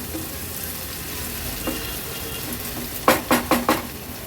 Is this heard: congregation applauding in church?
no